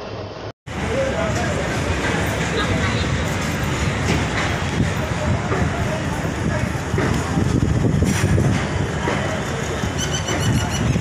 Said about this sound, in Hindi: तो दोस्तों भागलपुर से अपनी ट्रेन का डिपार्चर हो चुका है